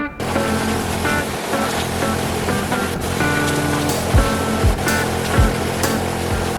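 Water spraying over a tillage finisher during a washdown, a steady broad rushing hiss with splashes and occasional bursts against metal, continuous and fairly loud, no talking.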